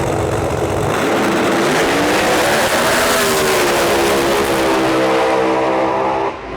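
Pro Mod drag race cars roar down the strip at full throttle, a loud sustained engine blast with shifting harmonics that holds steady before cutting off abruptly near the end.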